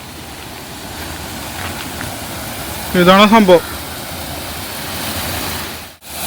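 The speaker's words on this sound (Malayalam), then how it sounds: "വെള്ളത്തിൻ്റെ ശബ്ദം കേൾക്കട്ടോ" Water of Kuruthikuzhi waterfall flowing through a channel and over rocks makes a steady broadband rush throughout, with a short burst of speech in the middle.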